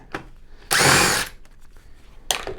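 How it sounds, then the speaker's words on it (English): A power driver spins out a screw from the back plate of a Samsung QN65S95BAF television: a short whirring burst near the middle, with a brief buzz before it and another at the end, close up. "So now we do have one screw right here. We're going to want to get that out."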